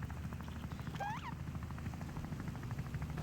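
A helicopter in the video game Wobbly Life drones with a steady, fairly quiet rotor and engine hum throughout, joined by a short rising whistle-like chirp near the middle.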